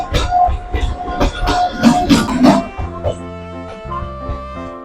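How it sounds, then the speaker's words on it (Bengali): A Kolkata Circular Rail train rumbles past nearby with clattering wheel beats, rising to a loud burst of rattling before settling into a steadier tonal hum. "যাওয়ার পথে পাশ দিয়ে ছুটে চলেছে চক্কর রেল।"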